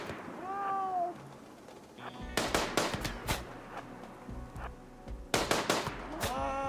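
Shots fired in a tribal survival video game, sharp broadband cracks in two bursts, a few quick reports each, loud against a quieter background with a brief meow-like tone early on.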